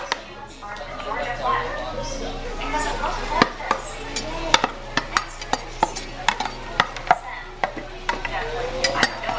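A spoon scrapes and clinks against a pan while meat cooks with a soft sizzle, the sharp metallic taps coming in an irregular rhythm under intermittent talking.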